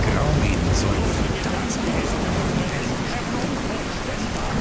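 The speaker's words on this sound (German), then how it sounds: "Hallo, es regnet." Steady rain pours in the video game Skyrim VR, a dense, loud hiss of falling water on surfaces with a few brighter drops, continuous and unbroken from start to end.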